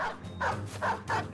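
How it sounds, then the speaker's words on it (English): Dogs bark in the video game Battle Brothers, a series of three or four fairly loud, close barks at an even pace. "Dogs try and tie us down."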